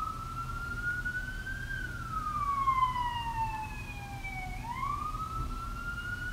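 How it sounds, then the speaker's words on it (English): A wailing siren sweeps up and down in pitch, steady and fairly loud, with road rumble and traffic noise underneath; no one speaks. "Turn off your siren."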